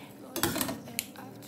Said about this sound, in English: I'm just going to give it a little stir.